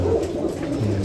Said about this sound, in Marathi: हे बघा सर्व एकदम छोट्या मापामध्ये एकदम फिट कबूतर आहे